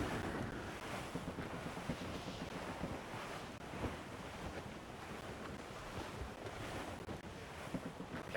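Continuous rushing wind and breaking waves at sea aboard a sailing ship in Assassin's Creed Rogue, a dense, steady wash with no talking over it.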